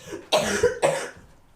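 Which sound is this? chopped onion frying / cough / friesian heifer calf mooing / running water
cough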